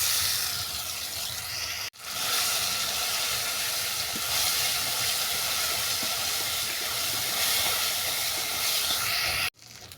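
Ground spice paste hits hot oil already crackling with bay leaf, dried red chilli and five-spice for a chicken curry, giving a loud, steady broadband sizzle and hiss that runs continuously, briefly dropping out twice.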